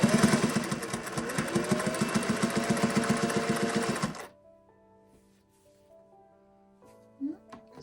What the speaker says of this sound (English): I'm just gonna do some test runs on the excess that I cut off here, just to make sure the tension's right.